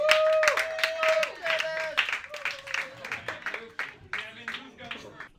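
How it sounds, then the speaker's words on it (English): Comedy club audience clapping at a roast battle, a burst of applause starting strong and tapering into scattered claps. "start clapping right now for Luke Davis"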